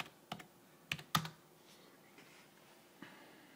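A few sparse, quiet key clicks from a computer keyboard as a password is typed, in small separate bursts over a faint room hum with no talking.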